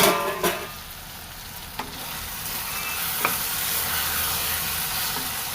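Okra is stirred in a hot frying pan, with a continuous sizzle running throughout and a few sharp scrapes of the spoon against the pan, close and fairly loud.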